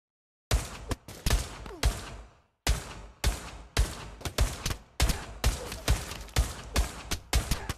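Rapid gunshots in DayZ played in VR, a string of sharp loud cracks in uneven bursts with brief pauses between volleys, close and dry with no talking.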